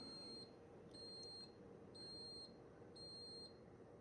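A Ninja coffee maker gives four evenly spaced, high-pitched beeps when brewing finishes, each about half a second long, faint over a quiet background hum.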